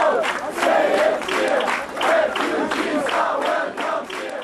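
A crowd of Germans cheering to welcome refugees: massed voices shouting and chanting in rising and falling waves, fairly close and continuous, with bursts of clapping mixed in.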